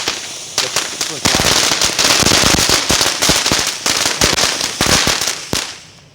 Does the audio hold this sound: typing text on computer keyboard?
no